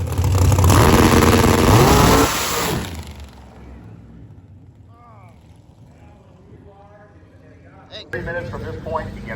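A drag race car making a single pass at drag week roars loudly at first, then its engine fades quickly into the distance, leaving faint background sounds and voices.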